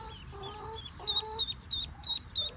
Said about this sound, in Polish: Słyszysz tam kaczuszki, co? Słyszysz mamę?